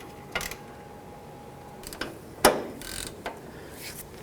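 Sway bar link nut being snugged up by hand on a 1992-2000 Chevy Tahoe, a few scattered metallic clicks and ratchet-like ticks over quiet background, close but sparse, no talking.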